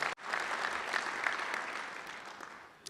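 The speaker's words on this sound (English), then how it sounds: "I think you can give yourself an applause." Audience applause at a Little Rock Touchdown Club luncheon, heard as a dense, steady roar of clapping from a sizable crowd that lasts the whole stretch, fairly distant and even in level.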